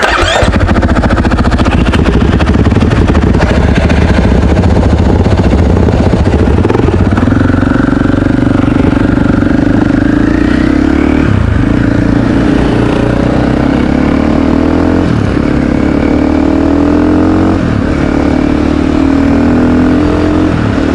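A KTM 500 EXC-F four-stroke enduro dirt bike engine roars loudly and close throughout, its pitch rising and dipping through repeated revs and gear changes with no break.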